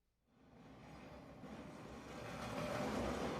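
A train in the video game Final Fantasy 7 rumbles and hums steadily, swelling gradually louder as it gets under way, a continuous mechanical roar with no talking.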